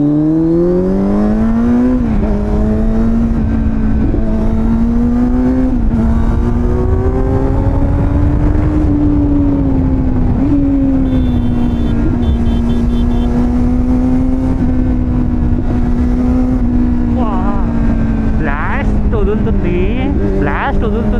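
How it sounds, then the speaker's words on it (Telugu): A superbike engine roars steadily during a weekend ride in Bangalore, its loud close drone rising and falling with the throttle for the whole stretch, with occasional sharper exhaust bursts near the end. "బ్లాస్ట్ వదులుతుంది నా బండి, పాట్ పాట్ పాట్ పాట్ అంటుంది"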